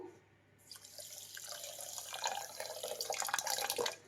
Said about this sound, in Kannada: ಸಕ್ಕರೆ ಮುಳುಗುವಷ್ಟು ಮಾತ್ರ ನೀರು ಹಾಕಬೇಕು